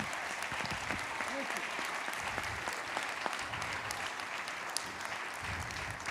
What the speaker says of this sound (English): Clap for the spirit that's in the room today.